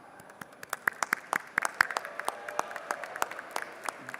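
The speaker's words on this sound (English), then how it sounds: "let's give everybody a warm round of applause, please" Scattered applause in a legislative house chamber, a small group clapping with sharp, uneven claps that come quickly and then thin out over a few seconds, fairly faint and heard without talk.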